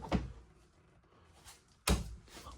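Two hollow wooden thumps about two seconds apart, like a kitchen drawer in a 2025 East to West Alta 3010KBH travel trailer being pulled open and knocked shut, with quiet room tone between.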